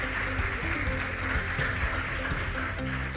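Sustained applause for teachers at a school quiz contest between junior high schools, a steady dense wash of many hands clapping throughout, fairly loud and even with no pauses.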